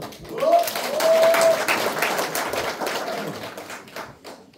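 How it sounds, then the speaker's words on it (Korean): Audience applause greets a speaker at a Democratic Party basic society committee launch ceremony in North Chungcheong Province, a broad, steady clapping that swells and then slowly thins out, with faint voices mixed in. "여러분의 큰 박수로 모시겠습니다."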